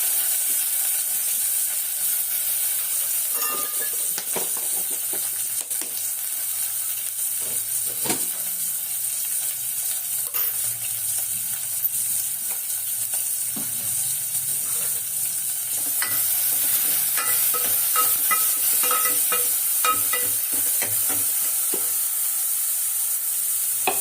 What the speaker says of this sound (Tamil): பெரிய வெங்காயம் ஒன்றே ஒன்று வதக்கி தாளிக்க